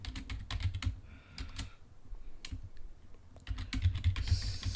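A computer keyboard clicks in quick irregular bursts of keystrokes with brief pauses while C# code is written, close and fairly quiet, with no talk.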